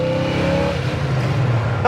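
A 1969 Chevelle accelerates hard through first, second and third gears, its loud engine note rising and dropping at each shift, close and dominant, with a brief voice near the end.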